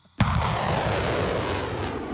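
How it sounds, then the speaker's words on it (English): A military rocket artillery launcher fires with a sudden loud blast that rolls straight into a sustained, roaring rush of exhaust lasting over two seconds. "rocket units shoot like this"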